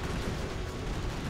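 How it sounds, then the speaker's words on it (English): Dense, continuous battle noise from the video game Command & Conquer: Generals Zero Hour, with explosions and gunfire blending into one loud, unbroken roar. "Explosions everywhere!"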